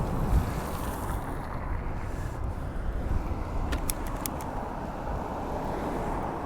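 Steady, loud wind rush and low rumble while riding a motorcycle on the first ride of 2025, continuous buffeting roar throughout with no talking.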